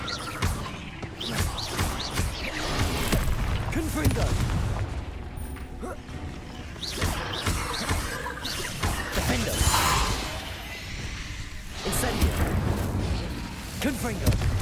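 Repeated blasting bursts and booms from a Confringo spell in Hogwarts Legacy erupt in loud, uneven volleys throughout, with game effects layered underneath.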